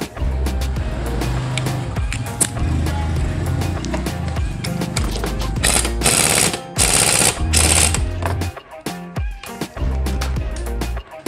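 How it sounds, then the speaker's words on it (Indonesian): Impact wrench tightening a bolt on a Yamaha Mio scooter during a starter repair, heard as loud, rapid hammering bursts of rattling impacts over several seconds, with short pauses between bursts in a workshop setting. "Ini kita pakai impact aja ya teman-teman."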